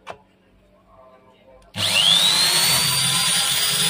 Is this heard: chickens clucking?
no